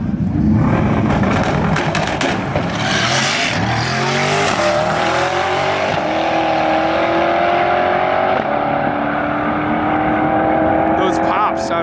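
An LMR wide-body C8 Corvette thunders past on a track, its engine roaring and revving loudly while exhaust pops and crackles break through; the sound is close and constant, with a crowd's voices mixed beneath.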